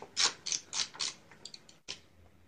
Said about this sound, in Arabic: سنقوم أولا بفك هذه البراغي، يكون هناك ثلاثة براغي